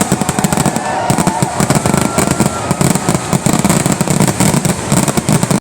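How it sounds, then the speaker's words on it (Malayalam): Firecrackers burst in a rapid, dense string of loud cracks and pops, continuous and close, rattling like gunfire for several seconds without pause. "ധ്യാൻ ചേട്ടന്റെ പടക്കത്തിന്റെ സൗണ്ട് കേട്ട് ഇംപ്രസ് ആയിട്ട്"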